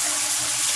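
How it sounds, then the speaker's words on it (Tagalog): Water rushes strongly from a newly replaced hose, a steady, loud, continuous flow with no voices over it. "mas malakas yung movement ng tubig ngayon nung napalitan na natin yung matala hose."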